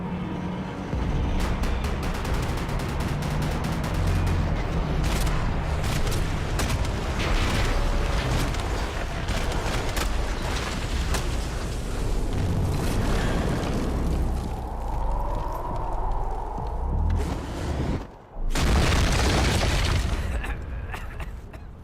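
Max Payne 3 firefight, with heavy gunfire and booming explosions rolling almost continuously, a brief lull, then a final loud blast; game voices sit faintly in the mix.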